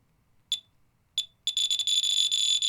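A radiation detector near americium taken from a smoke detector: two isolated beeps, then a rapid, nearly continuous stream of high-pitched clicks, close and clear with no talking.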